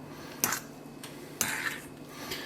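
Potato dumpling dough being mixed with flour in a bowl, heard as two distinct clinks of a utensil against the bowl amid soft scraping.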